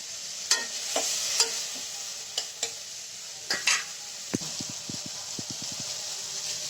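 Spice masala with tomatoes and slit green chillies fries in a pan for a rohu fish curry, giving a soft sizzle under intermittent spatula scrapes and taps, with a quick run of clicks near the end.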